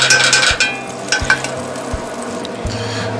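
About a full stick of butter melting and sizzling in a small old Griswold cast iron pan, a steady close crackling hiss with a few sharp clicks as it is stirred, no talking.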